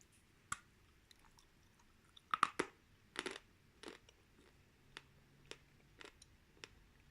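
Dry Turkestan clay, light brown and powdery, bitten and chewed up close: sharp crunching snaps, then scattered quieter crunches spaced out in quiet, with no talk.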